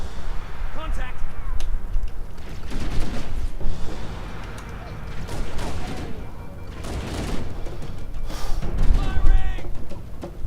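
Bursts of gunfire from the video game Halo: Combat Evolved, rapid repeated shots and mechanical clatter spread across the clip, loud and close, with voices talking over the action.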